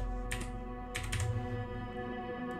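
Keys tapped on a computer keyboard while entering flight-plan details for a Microsoft Flight Simulator 2024 flight from Luton to Amsterdam, a few quick bursts of clicks over a steady low hum.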